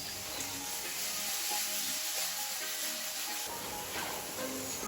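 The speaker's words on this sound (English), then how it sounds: "I'm just going to add my bacon. Bring that up to a high heat and fry those off." Bacon fries in a fry pan on high heat, giving a steady, soft sizzling hiss with faint crackles that holds through the whole stretch with no talking.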